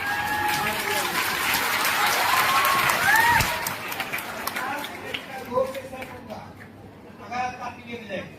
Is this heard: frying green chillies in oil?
no